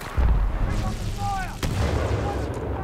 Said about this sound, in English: Arc grenade out!